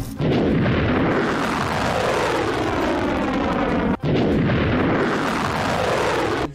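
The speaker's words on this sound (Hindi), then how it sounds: "मिसाइल को हवा में ही मार गिराने के बाद सायरन और धमाके की आवाज सुनी गई।" A loud, sustained roaring blast from a Houthi ballistic missile intercepted over Tel Aviv rumbles continuously for several seconds, broken by a brief dip before the heavy booming resumes.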